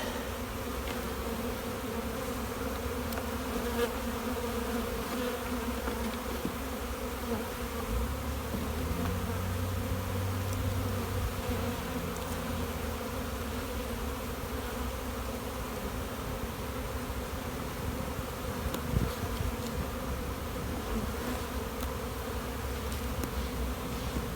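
Honeybees hum in an open hive's brood chamber during a frame-by-frame inspection, a steady dense buzz holding at an even level throughout with no voices.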